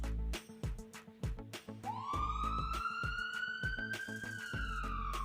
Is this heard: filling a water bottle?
no